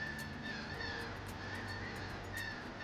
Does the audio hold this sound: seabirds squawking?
yes